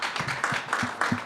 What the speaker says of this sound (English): can we give them a warm round of applause?